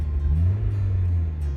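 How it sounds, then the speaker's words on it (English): A manual transmission car engine turns over and settles into a low, steady rumble, a short, close and fairly loud burst with no talk. "you're going to push the clutch to the floor, and you're going to start the vehicle, just like so"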